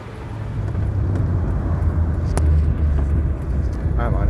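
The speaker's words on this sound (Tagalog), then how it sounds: "Ito yung sasakyan natin guys." A car's engine hums steadily as the vehicle drives along, a continuous low road rumble, while people talk inside over it.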